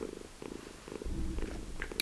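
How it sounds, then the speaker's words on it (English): A pet cat purrs close by in a quiet indoor room, a low rumbling purr running steadily through the clip with soft rhythmic pulses and no talking. "if you hear purring, my cat is just, every time, anywhere I go, he's right here"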